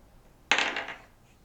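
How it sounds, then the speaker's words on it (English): A twenty-sided die is rolled during a tabletop role-playing game, giving one brief, fairly close clatter that rattles and fades within about half a second, with no talk over it. "Roll the 20-sided dice,"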